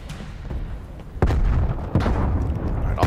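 Grenade blasts in Call of Duty Cold War Zombies, two sharp, loud booms about a second apart, each with a rumbling low tail over steady game background noise.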